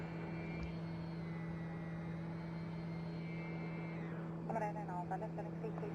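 Airplane taking off in the X-Plane 11 flight simulator played in VR, a steady loud engine drone with constant tones that shift near the end, a voice talking over it.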